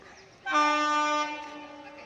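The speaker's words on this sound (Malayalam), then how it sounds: "ചൂളം വിളികളോടെ മാറി നിൽക്കൂ മാറി നിൽക്കൂ എന്ന് പറഞ്ഞുകൊണ്ടാണ് ട്രെയിൻ വരുന്നത്" The Madras Mail train horn blasts a loud, sustained chord close by as the train arrives, holding steady before easing off slightly at the end.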